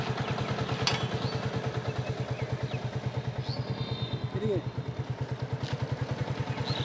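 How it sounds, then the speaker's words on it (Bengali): A motorcycle rides across a dry, sandy riverbed, its engine close and loud with a steady, rapid thumping beat that runs unbroken throughout. "এখন এই বালুর মধ্যে দিয়ে পার হইতে হবে বাইক নিয়ে, অনেক রিস্কি।"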